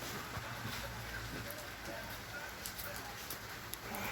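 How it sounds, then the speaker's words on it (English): Rain falls outside, a soft, continuous hiss with scattered faint drip ticks, quiet and steady throughout. "It's raining outside."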